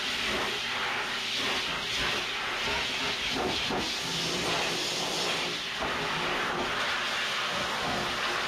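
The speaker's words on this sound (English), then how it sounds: "I'm blow drying her for just a few minutes, just to get off all this water" Blow dryer running on a wet Bichon Poodle mix dog, a loud continuous airy roar held close and steady throughout with slight shifts as the airflow moves.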